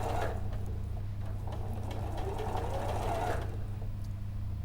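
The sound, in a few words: sewing machine stitching the front seam of a leg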